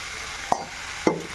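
Steady sizzling hiss of crushed ginger and garlic frying in a pan, broken by two brief scraping stirs.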